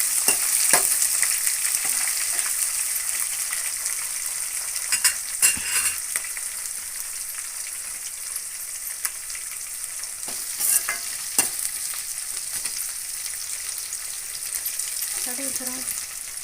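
Onions roasting in oil in a pan for fenugreek (methi) pulao, a steady bright sizzle with occasional stirring clinks and scrapes, and a faint murmur near the end.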